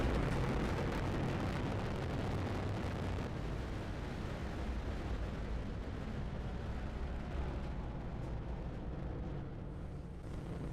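A SpaceX Falcon 9 Block 5 rocket roars during ascent, a continuous, dense, crackling thunder of engines that stays loud and steady throughout, slowly thinning slightly toward the end.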